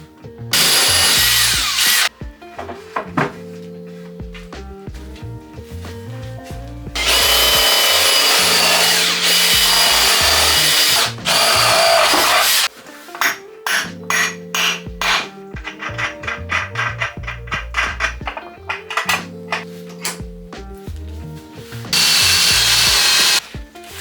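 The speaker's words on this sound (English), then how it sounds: "just seen the tip of the drill bit going through from the other side" A power drill bores through plywood in long loud bursts, whining and grinding, with brief pauses between runs and a final burst at the end.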